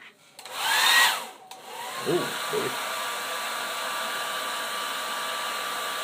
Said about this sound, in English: And then we'll take the hairdryer again.